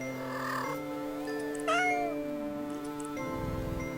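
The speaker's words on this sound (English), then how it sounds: "The sound of happy cats munching away at their fish fills your ears." Cartoonish cats in a video game meowing and mewling over a steady musical backdrop, with one louder rising cry near the middle and no munching sounds standing out.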